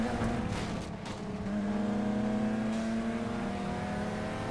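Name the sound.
car engine of a modded Nissan GT-R sliding in Need for Speed video game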